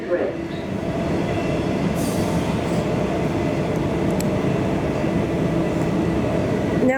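A Comeng suburban electric train on Melbourne's Sunbury line runs steadily into a station, with a continuous rumble of wheels on rails and a faint squeal near the start.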